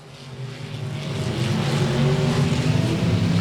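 Race cars racing side by side at Golden Triangle Raceway Park, a dirt track, engines roaring and building louder as they approach, a dense sustained revving drone with no talk.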